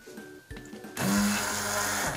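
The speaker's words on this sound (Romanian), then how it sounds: "acum frulăm această compoziție, supa, cu blenderul" On a TV cooking show, a kitchen blender purees a soup of toasted bread. It starts halfway through with a loud, steady whirring roar close by, after a moment of quieter kitchen clatter.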